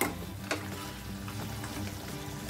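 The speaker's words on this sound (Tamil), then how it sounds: "நல்லா அந்த நண்டு மேல கிரேவி படுற மாதிரி பெரட்டி பெரட்டி விடுங்க" Crab masala gravy frying and being stirred in a pan for a Tamil-style crab curry, a steady close sizzle with scraping spoon strokes, one sharper clack near the start, and no talking.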